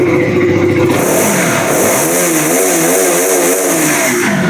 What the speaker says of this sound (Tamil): இந்த டியூக் 200 BS4னாலே அந்த சவுண்டுக்கே நம்ம வாங்கலாம்